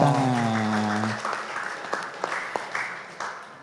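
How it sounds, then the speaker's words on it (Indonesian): An award-ceremony audience at a public service mall anniversary event breaks into applause as a sustained tone fades; the clapping is moderate and somewhat distant, with a few sharper individual claps standing out as it tapers. "Tepuk tangan dong."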